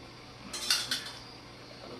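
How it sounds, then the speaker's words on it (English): A spoon clinks and scrapes against a dish while tomato sauce is ladled over manicotti, a few bright metallic taps clustered together, fairly close and otherwise quiet with no talking. "You're just gonna spoon the sauce right over your manicotti."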